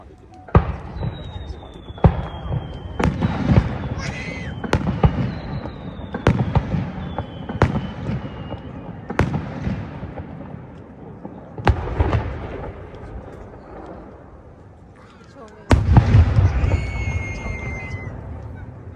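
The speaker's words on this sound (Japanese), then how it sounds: "その感謝の気持ちを込めた花火を打ち上げます。" Fireworks launch and burst at the Hakuryu Lake lakeside fireworks festival in Daiwa, Mihara, Hiroshima: a dozen sharp, echoing booms at irregular intervals, some shells whistling as they rise, with a faint crowd murmur between blasts.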